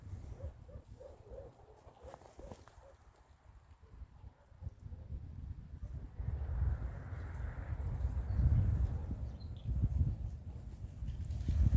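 Strong wind outdoors at a bird feeder makes a low, gusty buffeting rumble that builds and grows louder through the second half, with a few faint knocks and rustles underneath.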